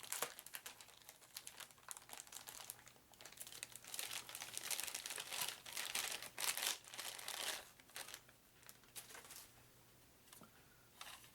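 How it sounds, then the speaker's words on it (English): Big plastic bag packing a tooth fairy board game piece being pulled and opened, giving loud, continuous crinkling and rustling with tearing bursts, close up and without talk, easing off toward the end. "And it's in this big plastic bag."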